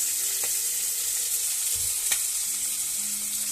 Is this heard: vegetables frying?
yes